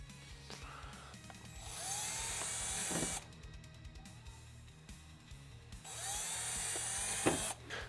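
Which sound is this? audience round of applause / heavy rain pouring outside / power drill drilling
power drill drilling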